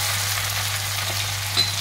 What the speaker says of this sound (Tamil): இதுக்கு அடுத்து இந்த தக்காளியை போட்டு நல்லா வதக்குங்க.